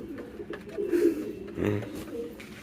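Pigeons being hand-fed, giving soft low coos in short bursts close by, with faint background noise between calls.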